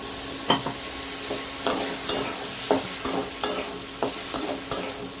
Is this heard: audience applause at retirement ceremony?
no